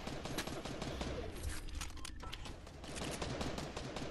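Rapid gunfire in the video game Fortnite, dense bursts of shots crackling almost continuously, fairly distant and moderately quiet, with a brief lull in the middle.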